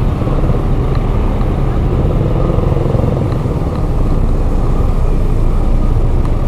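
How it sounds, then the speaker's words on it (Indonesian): Steady dense traffic at the congested entrance gate of Aur Kuning bus terminal, a continuous loud rumble of motorcycles and car engines idling and creeping along, close by with no break. "inilah suasana pintu terminal Aur Kuning, seperti kemacetannya"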